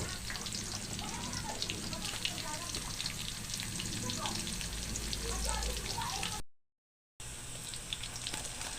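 Garlic and onion sautéing for spaghetti sauce produce a continuous, moderately quiet sizzle and crackle with occasional stirring. A voice speaks faintly over it, and the sound drops out briefly before resuming.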